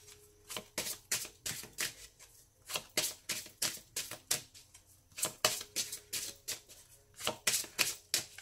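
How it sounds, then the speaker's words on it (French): Tarot cards being shuffled by hand in bursts of quick, crisp riffling flutters separated by short pauses, close and fairly loud with no voice. "Donc je mélange un petit peu et puis après on piochera des cartes au hasard."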